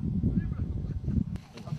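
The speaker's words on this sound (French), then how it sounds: "Alors on appelle ça canard armé ou l'oie de Gambie." Spur-winged goose giving a series of low, rapid honking calls close by, faint overall, in a short burst.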